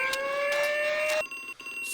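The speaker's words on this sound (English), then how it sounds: "Examine the smoke alarm. A smoke alarm." A smoke alarm in the game Harvester shrills with a steady, piercing electronic tone that cuts off partway, then a fainter, thinner beep continues alone.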